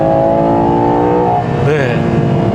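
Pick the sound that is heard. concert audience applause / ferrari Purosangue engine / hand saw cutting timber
ferrari Purosangue engine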